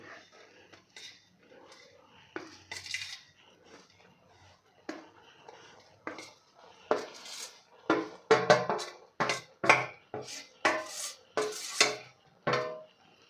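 A spoon scrapes and clanks against a pan as a jaggery and coconut ladoo mixture is stirred, starting with sparse knocks and building into a steady run of loud, rhythmic metallic strokes near the listener.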